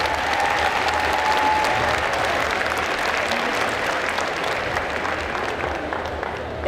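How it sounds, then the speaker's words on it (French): Sustained audience applause for cosplayers at a geek convention contest in Bordeaux, a dense crowd-wide clapping that holds steady and loud throughout, with a brief whistle early on and no speech over it. "vous pouvez les applaudir encore très très fort"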